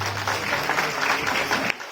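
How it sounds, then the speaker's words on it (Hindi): An audience at a speech event bursts into brief, dense applause, claps blending into a steady patter that stops abruptly near the end. "एक जोड़ा ताली से दें।"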